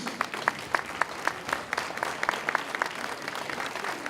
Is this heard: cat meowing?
no